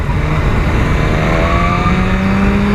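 A 2017 BMW S1000RR superbike cruises on the road, its engine holding a steady, loud, even drone with a slight pitch rise, alone without talk.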